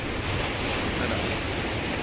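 Sea waves wash steadily onto a beach in a continuous loud roar of surf, mixed with strong wind buffeting the microphone, with no voices.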